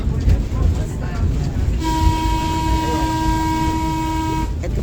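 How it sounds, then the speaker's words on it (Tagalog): A passing train sounds a long, steady horn for about three seconds over a dense rumble of wheels and moving cars, heard close and loud. "Ito po yung Southern Train."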